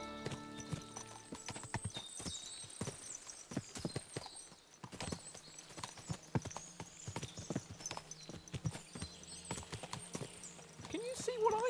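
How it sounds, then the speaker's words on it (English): Many horses clip-clop steadily in Kingdom Come: Deliverance 2, hooves thudding in an uneven stream with an occasional whinny, while a voice talks over them. "What a lot of horses!"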